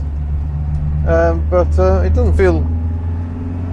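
A 1965 Singer Vogue Series III drives around a roundabout, its engine a steady low hum from within the cabin running under a voice throughout.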